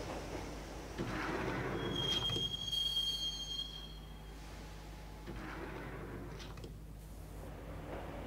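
A train ride in the video game Max Payne: a steady rumbling rail roar with a high metallic wheel squeal, easing into a quieter rolling hum with faint clanks.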